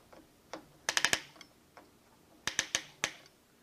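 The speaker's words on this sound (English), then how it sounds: "And you can hear the clicking sound." A compression screw tool clicks while tightening a fiber splice closure, giving sharp, close ticks in two quick clusters of three or four, with faint background between.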